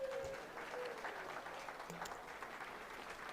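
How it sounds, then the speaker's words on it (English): Steady applause from an audience at a state robotics championship awards ceremony, thanking the judges; dense clapping throughout at moderate volume with a brief tone near the start. "could you give the judges, please, a round of applause so they can get off their chairs?"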